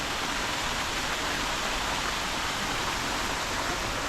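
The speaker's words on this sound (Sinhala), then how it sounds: "කුඩා වර්ණගල ඇල්ල." Small Warnagala waterfall, a stream tumbling into the Warnagala falls in Sri Lanka's Peak Wilderness, roars as a steady, dense broadband rush of falling water throughout, with no voices.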